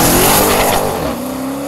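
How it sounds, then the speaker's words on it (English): A Dodge Hellcat muscle car doing a launch control start: loud, close engine roar at high revs that eases off as the car pulls away, with a hint of tire squeal. "The muscle car features a launch control feature, which revs up the engine to its maximum torque level and then releases the brakes for the fastest possible start"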